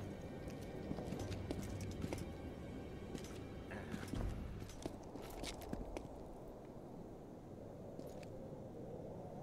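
Roach, Geralt's horse in a video game, clip-clops along with steady hoof falls over a dense, continuous background mix of game ambience, the hoofbeats fairly close and moderately loud.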